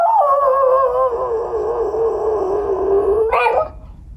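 Small mixed-breed dog, a Mountain Feist, Beagle, Parson Russell Terrier and Shetland Sheepdog cross, gives one long drawn-out howling whine close by, wavering in pitch before breaking off with a short rising yelp at the end.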